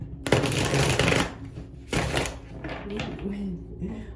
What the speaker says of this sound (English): I haven't shuffled this deck like this in a long time